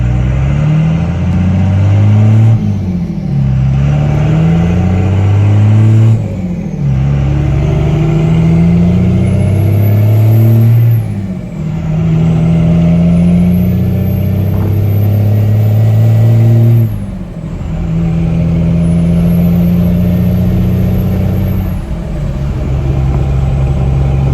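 A 24V Cummins diesel truck fitted with shotgun exhaust stacks drives on a road, its deep loud engine droning steadily with repeated rises and dips as it revs and shifts, heard from inside the cab without talk.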